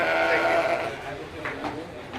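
A fall ram lamb in a livestock show ring gives a short, fairly close bleat at the start while someone talks over it, followed by quieter ring noise.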